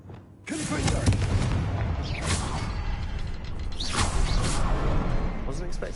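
A Confringo fire spell blast in the Hogwarts Legacy video game erupts suddenly into a dense, roaring rumble with whooshing swells, loud and sustained, mixed with game effects and brief voice sounds.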